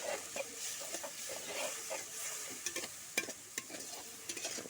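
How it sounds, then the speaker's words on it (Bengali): Spices with a splash of water sauté in a pan over low heat, a gentle bubbling sizzle with a run of sharp spatula scrapes and taps toward the end, quiet and free of talk. "খুব ভালো করে ভাবে কষিয়ে নিতে হবে।"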